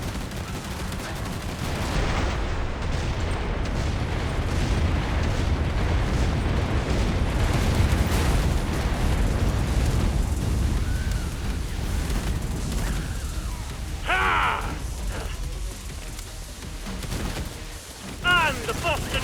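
Explosions and gunfire from a Killing Floor 2 solo match with a demolition class, a dense roar of blasts and shots running throughout, loud and continuous, with a game character's voice calling out over the action.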